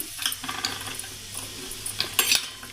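Chili powder being stirred into a masala pasta mixture in a pan: soft, irregular scraping and clinking of a utensil against the pan, with faint sizzling underneath and no talk.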